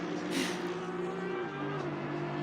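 A Honda NSX race car engine drones steadily in a racing game at Suzuka, a fairly quiet, even tone with a brief louder whoosh early on.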